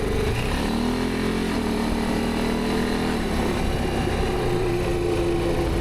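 A 2025 Honda Rubicon ATV engine drones loud and close, its pitch rising and then dropping as it shifts gears through the automatic transmission, with no talking.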